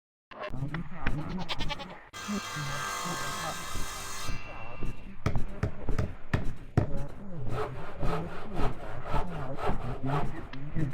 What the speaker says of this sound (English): you'll come across the sounds of a goat, sawing, and cutting.